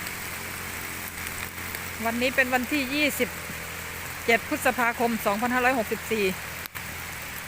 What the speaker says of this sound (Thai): ฝนตกหนักนะพี่น้อง